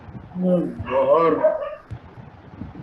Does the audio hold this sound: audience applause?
no